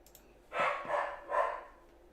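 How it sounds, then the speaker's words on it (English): A single dog barks three times in quick succession, fairly near and moderately loud, with a short pause between each bark and a quiet room around it. "Dog's barking."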